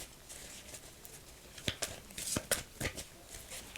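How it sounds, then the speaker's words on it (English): Tarot cards being shuffled by hand make soft, quick riffling and flicking bursts, faint and close, forming a short irregular cluster midway through. "As you guys could hear and see, I am shuffling."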